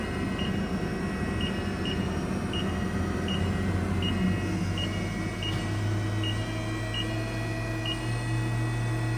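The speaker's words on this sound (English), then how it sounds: "I'm gonna go ahead and turn up the spindle a little bit." Haas VF2SS CNC mill from 2020 with its spindle running up toward 4,000 RPM, a steady machine hum and whine with a pitch that steps up partway through, under repeated faint electronic beeps and background air-compressor drone.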